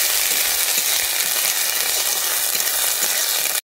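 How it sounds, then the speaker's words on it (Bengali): Ginger-garlic paste and ground whole chili fry loudly in a pan, a dense, even sizzle heard up close with faint stirring, ending abruptly. "আদা রসুন বাটাটা দিয়ে আমি এটাকে ভালোভাবে নেড়ে নিচ্ছি।"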